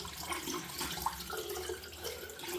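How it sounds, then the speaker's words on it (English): Cold water runs steadily from a tap into a bathroom sink during a wet shave routine, a continuous close splashing hiss with no speech. "Now I'm going to put this cold water on."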